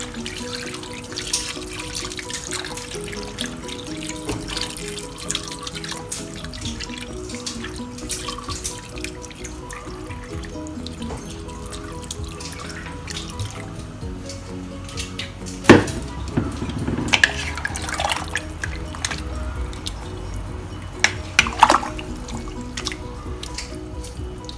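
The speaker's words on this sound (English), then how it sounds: "Okay, so now let's fill up with water." Tap water runs into a pot of braised pork belly in a home kitchen, a steady stream with drips and clinks of metal cookware, growing busier toward the end.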